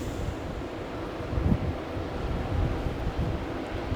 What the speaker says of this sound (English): Just dangerous from the wind, unfortunately.